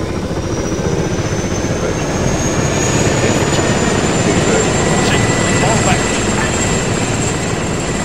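A helicopter in a video game flies out of a hangar with a loud, steady rotor and engine roar that holds constant throughout, overlaid by a thin high whine.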